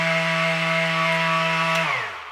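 A Festool ETSC 125 Li cordless random orbital sander runs loud with a steady, even motor whine, then winds down toward the end.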